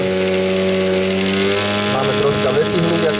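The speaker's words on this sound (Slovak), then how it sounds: "Takže Tomáš nám naštartoval jeho S-Pack." A model airplane engine in a 29% scale Sbach 342 aerobatic plane runs steadily at an airfield, a loud close buzzing drone with rich harmonics and slight shifts in pitch near the end.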